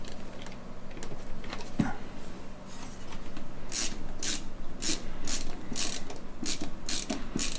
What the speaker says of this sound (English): Get a screw into it.